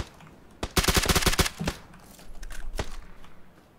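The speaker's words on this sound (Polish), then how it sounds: "Ze strefy do mnie strzela typ" Gunfire in the video game PUBG: a quick burst of about eight rapid automatic shots, followed by a few scattered, fainter single shots spread over the next couple of seconds.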